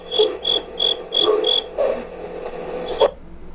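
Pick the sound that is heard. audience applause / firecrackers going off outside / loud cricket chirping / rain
loud cricket chirping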